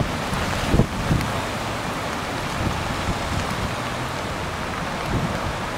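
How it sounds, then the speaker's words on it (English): Steady, loud rain hiss fills the whole clip at an outdoor monument, a dense washing noise with a few brief thumps mixed in, no voices. "Damn rain."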